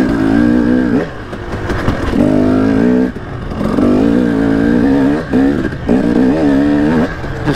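A dirt bike rips along a harescramble course, its engine rising and falling in repeated revving bursts as the rider works the throttle, loud and close throughout.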